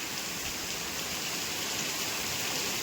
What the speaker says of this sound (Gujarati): મજાનો વરસાદ ચાલુ થયો છે ધીમો ધીમો ધીમો ધીમો